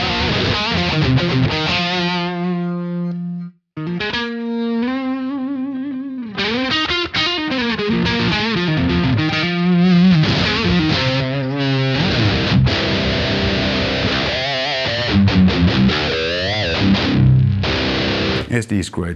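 Electric guitar played through a BluGuitar AMP1 Iridium amp on a live pedalboard with no effects engaged, a loud, gritty amp-driven tone strumming chords and riffs continuously, with one brief pause early on.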